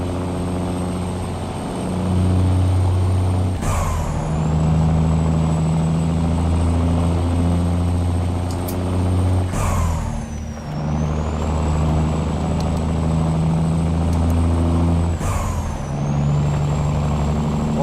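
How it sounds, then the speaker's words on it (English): A Big Cam Cummins engine sound mod on a truck in a truck simulator game, droning loudly and steadily with a low diesel rumble and high turbo whine, dipping and rising at three gear shifts. "What engine sound am I running? I'm running Crease Bomb's Big Cam Cummins."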